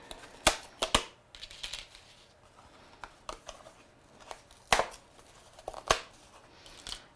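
A coordinating die cutting out stamped images: a series of sharp, crisp clicks and snaps at irregular intervals, close and fairly quiet, with faint handling rustle between them.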